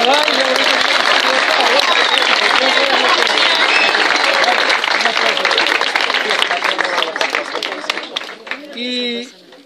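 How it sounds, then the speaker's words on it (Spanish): Members of an athletics club applaud themselves at a club gathering, a loud, dense burst of clapping mixed with voices and cheering that fades near the end, where a single voice briefly sounds alone. "ahora tocaría un aplauso para vosotros mismos"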